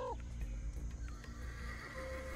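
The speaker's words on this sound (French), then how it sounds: "Y'a rien, c'est des chevaux." Horses whinny in the video game Ancestors: The Humankind Odyssey, one clear neigh at the start over a dense, steady game soundscape with faint hoof clops.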